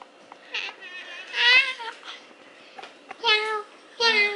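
A house cat meows several times, three clear drawn-out calls close by with short quiet gaps between them, in an otherwise calm indoor room.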